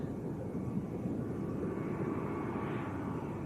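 Distant, faint jet airliner engine rumble from a Vueling plane in Andalusia special livery arriving at Lanzarote Arrecife airport, a steady broad drone with a slight rising whine.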